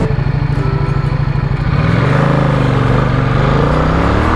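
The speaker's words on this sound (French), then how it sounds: "Cette fois je suis à moto." A motorcycle is ridden along an open road, its engine a loud, steady, close drone with a throbbing low pulse that rises in pitch as it speeds up, and wind rushing over it.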